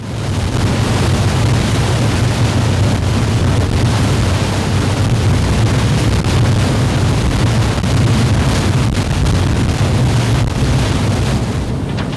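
The twin turbojet engines of a ferry bound for Bimini, Bahamas, give off a loud, unbroken roar with heavy low rumble and wind buffeting, steady throughout with no talking.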